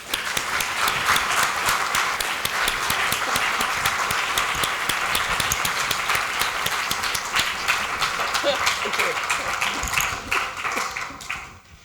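An audience claps to welcome the speaker of an opening lecture at a scientific symposium, with steady, dense applause that runs for about ten seconds and then tapers off.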